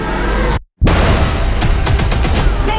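Loud rapid bursts of gunfire rattle through an action movie trailer, dense and close, cut by a brief moment of silence before the shooting resumes.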